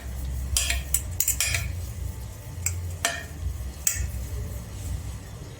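A metal plate being handled and greased in a kitchen before steaming Kathiyawadi khatiya dhokla: a few sharp clinks and taps of dishware scattered over a steady low background hum.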